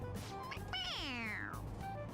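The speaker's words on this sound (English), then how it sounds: "It meows when you press on its head." A stuffed toy cat from the game Persona 5 Royal gives one drawn-out, rising-then-falling meow when pressed, loud and close, over a steady low background hum with no talking.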